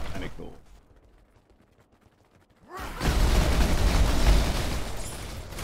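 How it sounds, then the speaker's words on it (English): Giant ice explosions in the action RPG Path of Exile, a sudden loud crashing burst after a quiet stretch that swells into a dense, sustained roar of magical blasts. "Creating giant ice explosions is kind of cool."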